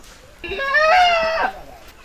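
A single drawn-out goat bleat, loud and close, wavering for about a second against a quiet background.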